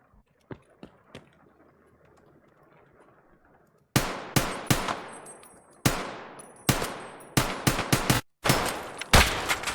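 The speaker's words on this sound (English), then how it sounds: "Shotgun slug to the face" Gunfire in the Escape From Tarkov video game, including a shotgun slug shot: a few faint early pops, then a rapid volley of loud, sharp close-range blasts with ringing decays, one after another.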